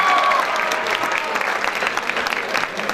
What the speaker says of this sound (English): Please give a huge round of applause to him as well.